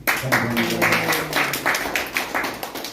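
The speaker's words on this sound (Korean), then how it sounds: "박수" An audience in a large conference hall at a Korean revivalist pastors' forum gives steady applause as a speaker is called up. The clapping is moderate, even and fairly distant, with a faint voice beneath it early on.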